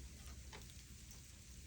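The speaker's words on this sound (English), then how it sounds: "You can hear it like the sleeting rain." Sleet falls outside during a snow storm in the South, a faint, even crackling patter like light rain on a surface, steady over a brief stretch with no voices.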